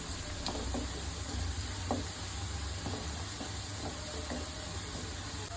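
Turmeric powder being stirred into a frying mixture in a pan, a steady broadband sizzle with soft scraping strokes of the spoon recurring every second or so, close and continuous with no talk.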